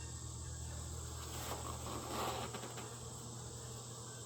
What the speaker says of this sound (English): A few bees up there.